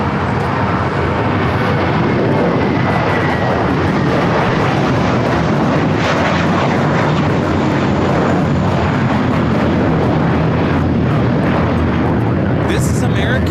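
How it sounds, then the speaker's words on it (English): An American Airlines Airbus A321 departs LAX for JFK with a heavy, sustained jet roar that stays loud and broad throughout, nearby and dominating the scene, ending with a brief sharper noise. "This is American Airlines Flight 32 taking off to JFK on the A321"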